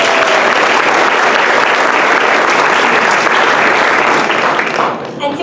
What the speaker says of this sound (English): another round of applause for all the parents who have been nothing but supportive of all of our players